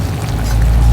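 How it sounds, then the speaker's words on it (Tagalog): Thickener is poured into a pan of pork steak with a short, close pouring sound that swells briefly. "Ito na po, ilalagay natin ang kanyang pampalapot."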